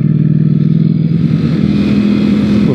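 A 2020 Ducati Streetfighter V4 S revs hard under acceleration, its loud, close engine note climbing steadily in pitch with a gritty pulsing rasp and no talking.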